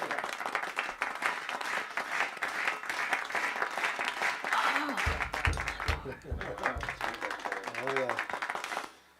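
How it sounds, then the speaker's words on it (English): Audience applause and scattered clapping during a live jazz ensemble performance, crowd noise with some laughter and whoops, while someone briefly speaks over it before the sound fades. "Let's have an applause for the Stratocaster."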